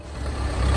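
A Massey Harris 30 tractor from the 1940s runs with a steady, loud low engine rumble, heard close and alone in a very brief stretch.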